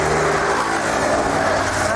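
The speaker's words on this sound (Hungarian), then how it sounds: "Megint jönnek az autók." Cars passing on a road through the western pass of the Low Tatras near Donovaly, a loud steady engine and tyre roar close by, heard alone without talk.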